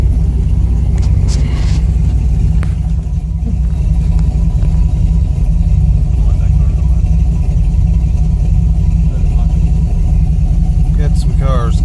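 A V8-swapped Volvo with new intake gaskets and a gated TCI shifter rumbles steadily on a test drive, its mid-pitched engine droning loud and close throughout with a constant low roar and no clear revving.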